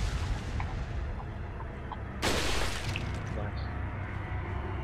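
An explosive barrel blows up in Resident Evil 4, a sudden mid-distance boom with a short burst of debris over a constant noisy game background.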